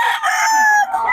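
A single loud rooster crow in Bocaue, Philippines, very close, held for about a second.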